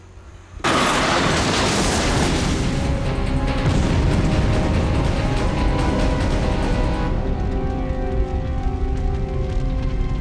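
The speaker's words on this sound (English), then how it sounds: "an infected truck driver running into their car, causing an explosion that separates the two" A truck crashes into a car and explodes in the 1998 PlayStation game Resident Evil 2: a sudden loud blast followed by a sustained roaring fireball and rumble that holds steady for several seconds before thinning out.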